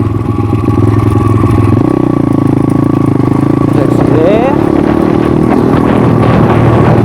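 A motorcycle engine runs loud and close throughout, its pitch stepping up and dropping as the rider accelerates, eases off, pulls the clutch and shifts gears, with clattering mechanical noise on top.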